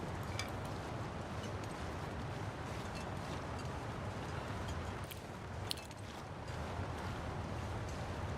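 Gusty wind buffets steadily throughout, a broad rushing roar with brief harder gusts, heard alone without any talking.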